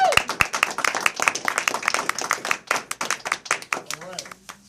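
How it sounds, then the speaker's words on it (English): A crowd claps loudly at a military swearing-in ceremony, a dense burst of many hands that thins out toward the end, with voices mixed in. "Give them a round of applause."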